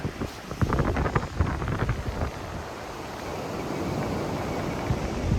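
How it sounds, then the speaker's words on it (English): Strong seaside wind buffets the microphone at a Cancun beach resort, loud irregular gusts thumping and roaring at first, then settling into a steady blustery rush with surf noise underneath. "It's very windy right now."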